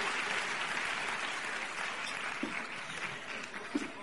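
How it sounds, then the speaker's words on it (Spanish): An audience at a business convention claps in a steady, even wash of applause at moderate distance, continuing throughout with no speech. "nuestro gran aplauso esta noche por hacer posible esta convención."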